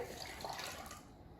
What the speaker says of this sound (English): So put instant coffee and 1 cup of cold water.